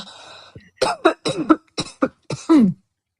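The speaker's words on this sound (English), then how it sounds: "There's a couple people coughing." Several people cough in quick succession at a spiritual gathering, a series of about eight sharp, fairly close coughs with throat-clearing rasps, each short burst separated by brief pauses.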